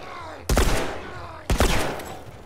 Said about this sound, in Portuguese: Ah, o último tiro eu acerto na cabeça